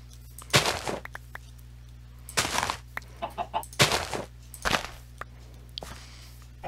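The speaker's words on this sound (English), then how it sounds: "Don't cluck at me!" Chickens in the video game Minecraft cluck in several short separate bursts spaced over a few seconds, clear and close over a quiet steady hum, with no talking.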